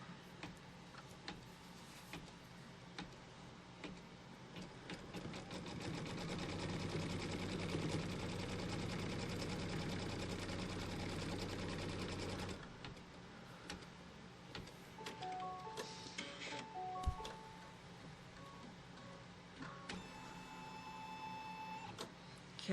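Embroidery machine stitching a quilt block, a rapid mechanical tick-tock clatter running steadily for several seconds, then stopping, followed by soft beeps and light handling noises at low volume.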